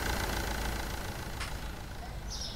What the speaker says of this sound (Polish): Czy te samochody tak brzmią?